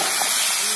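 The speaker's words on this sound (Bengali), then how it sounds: "আর এখানে আমি কুমড়ো ফুলের মানে চপগুলোকে ভেজে নিচ্ছি" Pumpkin flower fritters sizzle in hot oil in a home kitchen, a steady close hiss of frying that holds evenly throughout the short moment.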